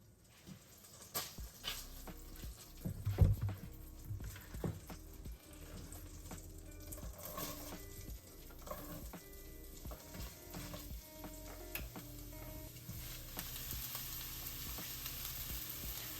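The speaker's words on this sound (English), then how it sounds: "All right, so we're gonna get this sauteed." Vegetables sizzle steadily in a pan, sauteed as the base for bean soup, with an even frying hiss throughout and occasional clinks and scrapes of stirring.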